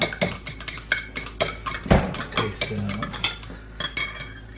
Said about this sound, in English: And that's the chopstick he's using to stir it.